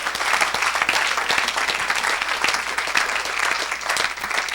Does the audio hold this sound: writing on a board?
no